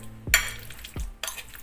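A spoon stirs a flavor mix in a frying pan, sizzling softly with a few sharp scraping strokes against the metal, about three distinct stirs in quick succession.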